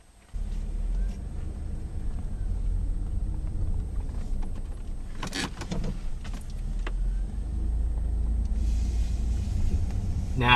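Car interior during a drive, a steady low engine and road rumble that starts abruptly and continues for ten seconds, with a brief burst of clicks and rattles in the middle and no talk.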